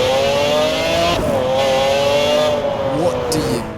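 A McLaren F1 in Forza Horizon 4 holds a loud, steady high engine drone with a brief pitch dip and recovery, echoing with reverb, and a voice speaks over it.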